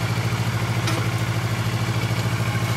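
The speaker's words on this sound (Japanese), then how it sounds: "ほんならエンジン音聞かせてもらえますか？" A 2014 Kawasaki Ninja 400R motorcycle engine idles steadily at close range, a loud rhythmic low thrum with a slight mechanical clatter.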